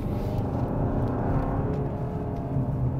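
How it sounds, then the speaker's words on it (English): A 2024 Hyundai Santa Fe SE with a wet dual-clutch transmission drives along, a steady low engine rumble and road whir heard from inside the cabin, with no distinct gearshift break. "the wet dual clutch does a good job shifting the gears"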